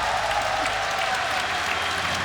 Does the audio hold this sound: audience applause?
yes